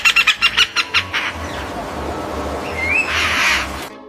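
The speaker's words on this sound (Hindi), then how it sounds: "देखो ये है मायना" A common myna calls with a quick run of about eight sharp, rhythmic chattering notes, then a rising whistle and a harsher, noisy call, close and fairly loud.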